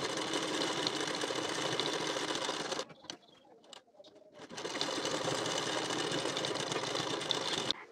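Sewing machine stitching a strip on a 34-size elite-cut blouse, running in a steady loud whir that stops briefly near the middle, then resumes for the rest.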